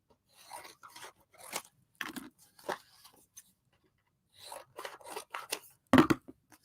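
Scissors snip through paper while sorting coloring pens and markers at a table, a series of close, crisp cuts in uneven bursts with a brief pause midway and a louder final snip.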